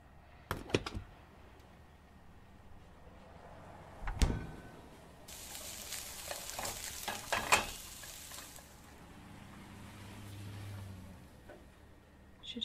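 Food sizzles and stirs in a pan in a realistic life-simulation video game, with soft scraping and clattering bursts over a faint frying hiss, quiet and fairly close.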